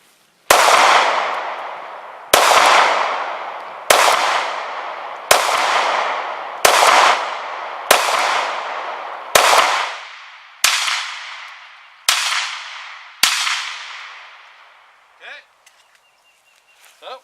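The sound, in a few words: Glock 43X pistol shots with 115 grain ammo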